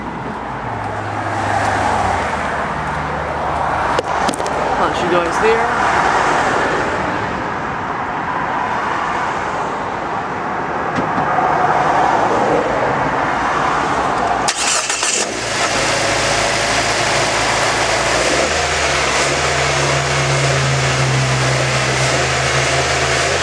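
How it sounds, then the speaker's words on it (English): A 2014 Nissan Juke engine runs with a steady, close mid-pitched hum and exhaust note, shifting to a firmer, lower drone partway through, with a few brief spoken words. "Start her up for you guys, so you can just listen to her for the engine and exhaust."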